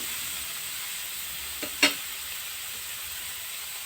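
Onion, chili, garlic and cumin masala sautéing in a pan for drumstick-leaf sabzi, a steady close sizzle broken by one or two sharp utensil clinks.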